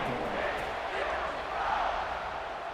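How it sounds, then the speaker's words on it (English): A home crowd cheers in a college football video game after a punt return, a steady, dense roar of many voices sustained throughout without pause, at a moderate level. "You can hear this home crowd going bananas"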